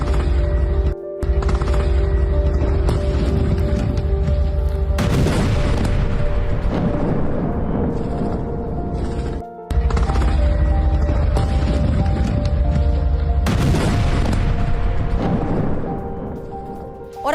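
Ground fighting in Jabalia with tank fire: a dense, very loud wall of explosions and gunfire rolls on almost without pause, with heavy booms standing out and long rumbling decays after them.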